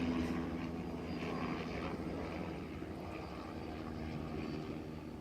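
A helicopter passing over downtown Miami, its engine and rotor drone steady and fairly faint in the distance, slowly easing slightly quieter.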